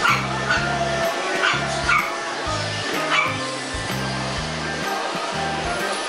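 Several puppies yipping and barking in short rhythmic bursts, with occasional whimpers, close by over a busy background murmur at a market in the Philippines.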